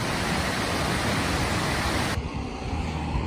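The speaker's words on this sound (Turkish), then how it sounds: "Ve Oyla Şelalesi'ne varıyoruz" Oyla Waterfall flows as a dense, steady roar of rushing water, loud and close, with the broad hiss dropping off sharply in its upper range after about two seconds.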